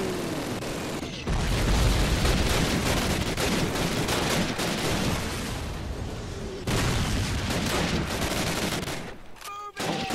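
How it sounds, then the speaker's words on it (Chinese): Dense, loud gunfire from the WWII shooter Call of Duty (the original 2003 game) during a battle at a hilltop 88 gun: continuous overlapping rifle and machine-gun bursts with booms, a short lull near the middle and a quieter stretch at the end. "现在枪声有点大声"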